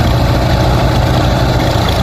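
A tractor pulling a rotavator through a field runs at a steady, even speed, its engine giving a loud continuous drone with low rumble and no voices.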